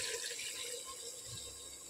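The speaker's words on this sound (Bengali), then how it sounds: "এবার এর মধ্যে একটু জল দিয়ে দেব।" Water pours into a pot of chicken for handi chicken, a steady, soft splashing trickle that stays close and continuous with no talking.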